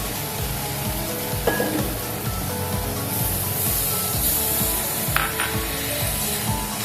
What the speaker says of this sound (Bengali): মশলাটা দিয়ে দেবো। দেবো অল্প একটু জল।